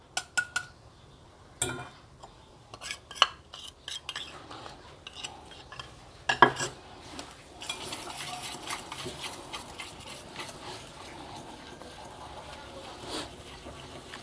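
Sugar being whisked into eggless cupcake batter in a bowl: scattered light clinks and taps of the whisk against the bowl, then settling into continuous soft scraping and stirring, fairly faint throughout.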